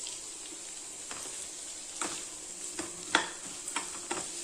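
Onions sautéing in a pan for Kumbakonam kadappa sambar, a soft continuous sizzle with occasional stirring scrapes and light taps, fairly quiet and close.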